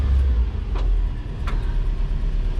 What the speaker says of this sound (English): Sounds like it might have a bit of a exhaust leak.